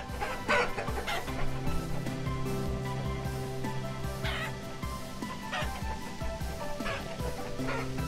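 Chickens clucking in the survival crafting game Vintage Story, repeated clucks and squawks over a continuous layered game music backdrop, moderately loud and close.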